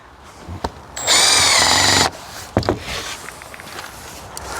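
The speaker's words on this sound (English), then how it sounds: "I'm going to just attach these two sheets together with a couple of screws." Power drill driving screws through two stacked plywood sheets in a timber-frame garage build: one loud, steady whirring burst lasting about a second, between a few knocks and footsteps, with no talking.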